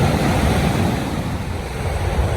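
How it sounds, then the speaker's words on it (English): Ocean surf breaking on a Jamaican shore in St. Thomas, a loud continuous wash of waves with wind buffeting the microphone and no talking. "Waves them are coming and everything."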